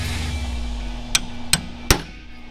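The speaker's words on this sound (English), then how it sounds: "now take your hammer and tap here and here" Three sharp metallic hammer taps on a ball joint of a 1968 car ring out at a steady pace over a low mechanical hum.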